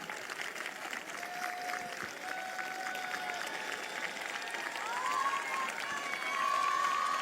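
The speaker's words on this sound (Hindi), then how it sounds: "बजाओ ताली।" A church congregation claps together during a morning prayer service, a sustained dense patter of applause that swells slightly toward the end, with voices and a sung or shouted tone rising above it.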